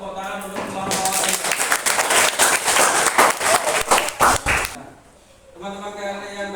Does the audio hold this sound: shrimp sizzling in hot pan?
no